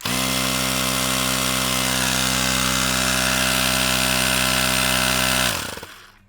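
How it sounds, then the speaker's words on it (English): An electric tire pump runs loud and steady while inflating a Razor MX350 Dirt Rocket tire, a constant droning motor hum that holds for over five seconds and then winds down and cuts off. "Attach your tire pump to the valve stem, and inflate to 45 psi."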